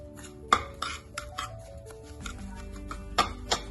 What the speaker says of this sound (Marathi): तुपामध्ये रवा छान भाजून घ्यायचा